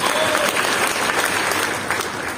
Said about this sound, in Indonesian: Kita kasih tepuk tangan dulu buat Tuhan Yesus.